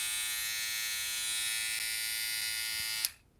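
Electric sanding tool fitted with an 800 grit pad spinning close by with a steady high buzzing whine, then switched off, trailing into quiet.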